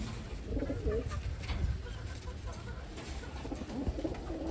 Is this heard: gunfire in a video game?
no